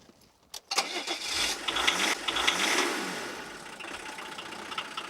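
An ordinary car running on used vegetable oil cranks briefly, catches and starts, then settles into a steady, fairly loud running engine with a faint whine.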